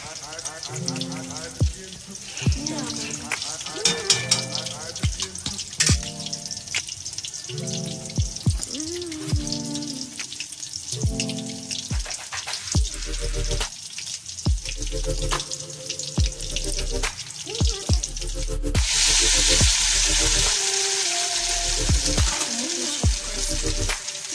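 Bulinao anchovies frying crispy in a pan, with scattered pops and crackles over tonal background music, building to a loud, dense sizzling hiss near the end.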